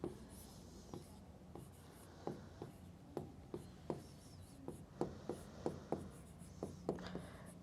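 Hand writing an answer for a class 9 maths problem, with soft, close pen or pencil strokes and small taps in an irregular rhythm.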